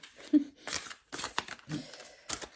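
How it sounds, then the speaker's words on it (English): Someone shuffles a deck of very large, stiff cards, making faint, close, uneven rustles and soft slaps in short bursts with brief pauses between them. "I am not doing very well at my shuffling. These are very large cards and stiff."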